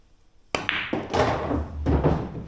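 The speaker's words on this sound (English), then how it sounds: "I would play a stop shot, which leaves me no shot on the 13." A pool cue strikes the cue ball for a stop shot on a billiards table, a sharp close tap followed by balls clacking and rolling, with a second knock near the end.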